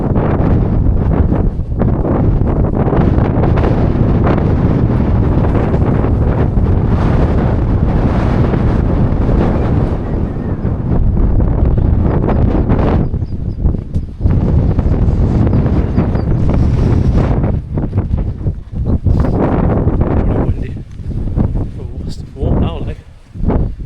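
Heavy wind buffets the microphone almost nonstop, a loud roaring rumble that gusts and briefly drops away near the end.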